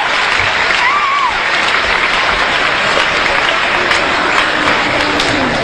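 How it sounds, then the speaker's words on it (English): School audience gives a steady, dense round of applause after a motivational speaker's guest on stage, loud and sustained throughout, with brief cheers rising out of the crowd. "Give him a round of applause"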